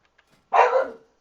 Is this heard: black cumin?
no